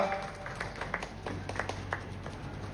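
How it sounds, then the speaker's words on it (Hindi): Faint applause from an audience at an annual community celebration welcoming a guest, scattered claps over a low background murmur, short and distant. "तालियों के साथ साहब का स्वागत कीजिए"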